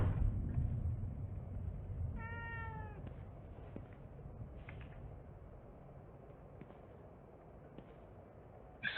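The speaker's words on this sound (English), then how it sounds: "I don't ever remember owning a cat." In the video game The Evil Within 2, a single cat meows once, clear and fairly close, over a low dark ambient rumble with faint scattered ticks.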